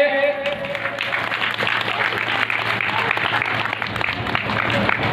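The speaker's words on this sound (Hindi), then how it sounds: "एक जोरदार तालियां होनी चाहिए।" Loud, dense applause from a crowd of devotees in a temple courtyard during a Navratri recitation gathering at a Shiv temple, steady throughout with a brief voice at the very start.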